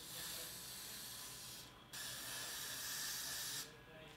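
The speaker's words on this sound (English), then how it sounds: "The hairspray I'm gonna be using is the Got To Be Lasting Free Spray." Got To Be Lasting Free Spray hairspray misted around a wig's lace hairline, two long steady hissing sprays with a short break between, close and fairly soft, no talking.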